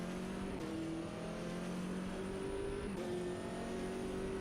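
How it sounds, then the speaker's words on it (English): Race car engine in a sim racing game at Termas de Río Hondo, a steady engine drone with shifting pitch as another car approaches, continuous and moderately loud with no talking. "There's a car approaching."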